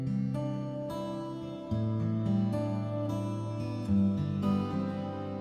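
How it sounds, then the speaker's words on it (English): An acoustic guitar processed through a reverb plugin plays strummed chords, the notes blurring into a washed, lingering tail between attacks at a steady, close level. "now let's switch it on and hear it with the reverb."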